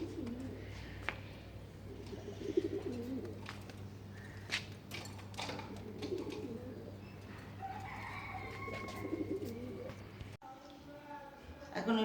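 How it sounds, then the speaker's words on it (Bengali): Pet doves, kept as household birds, give soft low cooing calls over a steady low hum, with occasional faint clatter and some indistinct voices in the background. "এই যে আমার ঘুঘু পাখিগুলা"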